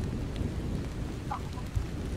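Thunderstorm in the horror video game Hollowbody: a continuous rumble of rain and thunder with a brief low knock near the end and no voices.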